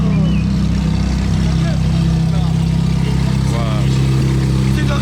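A modified McLaren 720S with a stage 2 tune and exhaust line rumbles loudly and steadily at close range, its deep engine note holding continuous for several seconds with a faint wavering rise, no talk over it.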